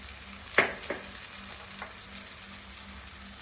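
Tomatoes with chilli powder and spices sautéing in a pan, a quiet low sizzle with a couple of sharp scrapes of the spoon early on, then gentle frying alone.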